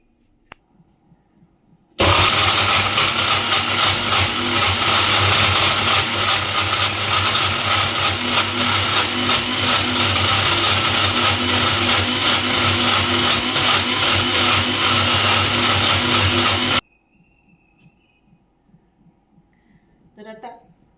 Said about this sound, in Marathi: मिक्सरचं झाकण लावूयात आणि जर गरज असेल तर ह्याच्यामध्ये साधारण एक ते दोन चमचे आपल्याला दूध घालून छान व्यवस्थित हे स्मूथ असं मिक्सरला वाटून घ्यायचं आहे